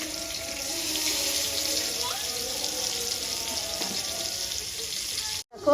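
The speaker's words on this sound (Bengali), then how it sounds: "মাছটা ভালো করে আমি উল্টিয়ে পাল্টিয়ে ভেজে নেবো" Hilsa fish frying in mustard oil, turned over in the pan: a continuous close sizzling hiss holds steady for several seconds, then cuts out abruptly near the end with a brief knock.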